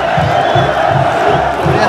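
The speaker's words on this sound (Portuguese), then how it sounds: "Gol aqui do Vasco. Torcida comemora 3-1 aqui" Large crowd of Vasco supporters roaring in celebration of a goal at an away stadium in Santa Catarina against Marcílio Dias, a dense, loud, continuous mass of cheering and chanting with rhythmic pulses.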